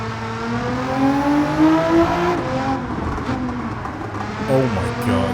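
A 933 bhp Nissan GT-R race build with anti-lag in Gran Turismo 7 revs steadily with rising and falling engine tones and scattered exhaust pops, with a voice talking over it throughout.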